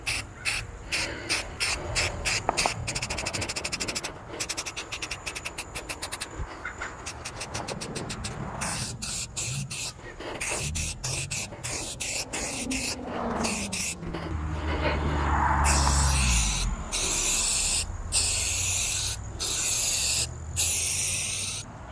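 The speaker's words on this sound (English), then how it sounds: "I'm going to go ahead and put a coat of paint over this" Aerosol paint sprayed in bursts over the threads of a metal flag pole fitting for a camper, a series of close hissy spurts with rattling and handling sounds between them.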